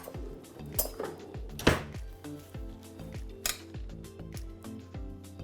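A spoon clinks and scrapes against dishes while almond dough for gluten-free blueberry muffins is pressed into a tin, giving close, sharp taps in a loose irregular rhythm with a low hum underneath.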